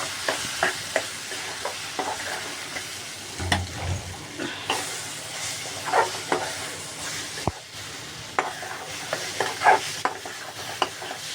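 Masala spices stirred and fried in a pan, a steady sizzle under repeated scraping and stirring clicks, close and moderately loud, with no talk.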